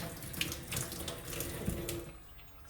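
A small stream of tap water runs steadily into a sink while carrots are scrubbed by hand, a continuous close splashing hiss with faint rubbing and clatter, no voices.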